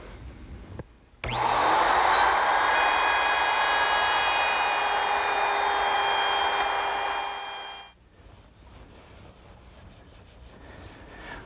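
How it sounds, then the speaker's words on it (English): A router fitted with a 1/4 inch round-over bit shapes the outside edge of a wooden coffee table top, giving a loud, steady high-pitched whine for about seven seconds before it spins down, with no talking. "I'm just going to round over the outside corner with a 1/4 inch rounding over bit in my router."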